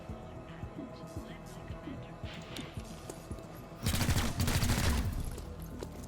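Weapon fire in the video game XCOM Chimera Squad: scattered faint shots and clicks, then a loud dense burst of gunfire near the end.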